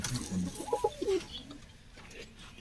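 Pigeons kept by a fancier in Bijbihara give a brief, low cooing burst against a noisy background, fairly close but soft.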